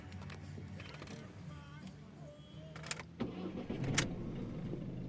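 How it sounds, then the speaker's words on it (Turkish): A car engine cranks and catches around the three-second mark, then settles into a rumbling idle, close by with faint background noise before it. "Şimdi aracımızı bir çalıştıralım."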